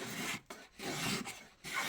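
A traditional wooden spokeshave blade is sharpened, the rasping strokes running against the grain in four quiet rhythmic passes separated by short pauses.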